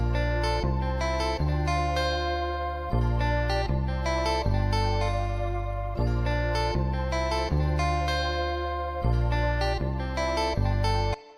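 A full soca beat plays with every part together: punchy bass and drum hits pulse in a steady, loud groove under layered synth chords, with no voices.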